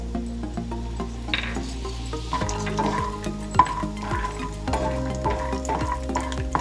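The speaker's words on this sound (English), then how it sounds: "I am adding oil. First add peanuts." Peanuts sizzle and crackle in hot oil for a rice tempering, a steady frying hiss broken by sharp pops and stirring clatters, close and fairly loud, with no talking.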